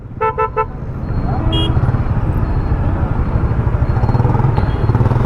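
Three short horn toots ring out over a constant rumble of passing engines and heavy beach-bound traffic in Pondicherry at New Year, followed by another brief honk and continued motor noise.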